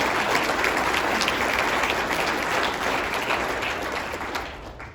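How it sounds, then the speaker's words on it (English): An audience at a city's State of the City address applauds steadily for about five seconds, a dense wash of clapping that begins to fade toward the end. "let's give them a round of applause because they are in the thick of it"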